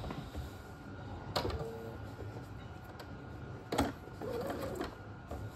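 A sewing machine bastes fabric pieces with quiet, brief whirring runs and a few sharp clicks, sounding faint and close, with no talking.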